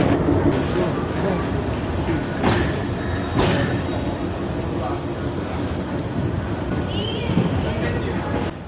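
A local train departing Dinajpur for Santahar rumbles and rattles along with steady low noise and wind buffeting, while people talk nearby over the din.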